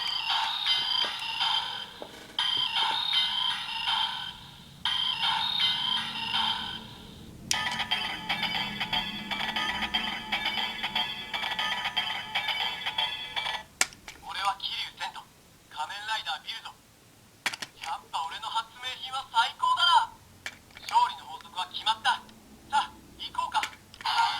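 A DX Hiden RisePhone toy phone from Kamen Rider Zero-One plays electronic ringtone jingles and beeping tones, repeating chimes interspersed with button clicks and recorded voice lines, fairly loud and close.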